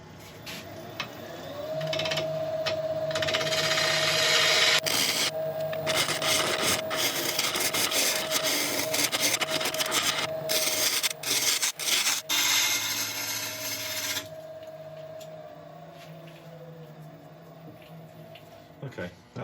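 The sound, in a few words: wood being cut on a woodturning lathe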